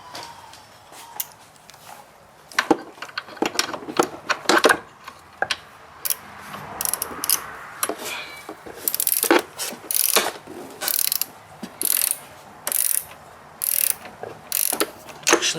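A ratchet with an 8 mm socket working a bolt on the throttle body of a 2002 Ford Taurus, rapid close clicking in repeated short bursts with pauses between strokes.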